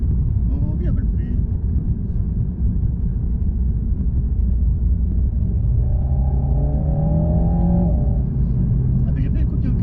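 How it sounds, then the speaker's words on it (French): An Alpine A110 S Enstone sports car accelerates and changes gear: a loud, close engine drone that climbs in pitch, with a rising rev near the end and a voice talking over it. "Là, par contre, ça change de vitesse."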